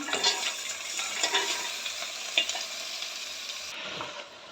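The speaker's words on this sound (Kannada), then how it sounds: "ಈಗ ಕುಂಬಳಕಾಯಿನ ಈ ರೀತಿ ಫ್ರೈ ಮಾಡೋಣ" Cut pumpkin pieces fry in a pan with a steady, close hiss and crackle, broken by occasional scrapes as they are stirred.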